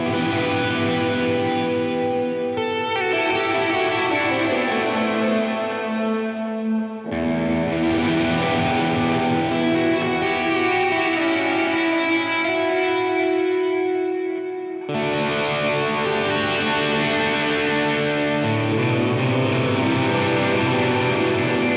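Electric guitar plays sustained chords through a Line 6 HX Stomp set up with parallel delay, reverb and amp effects, giving a dense, distorted, chorused tone in three long phrases that change at each section, loud and continuous with no talking.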